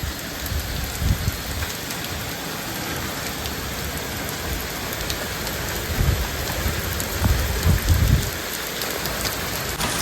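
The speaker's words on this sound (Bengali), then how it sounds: "বৃষ্টি অনেকক্ষণ ধরেই পড়ছে, যদিও পুরো মুষলধারে বৃষ্টি পড়ছে।" Heavy rain pouring down outdoors in a stormy, windy downpour, a dense continuous hiss of drops striking surfaces with a few low rumbling swells, loud and steady with no voices.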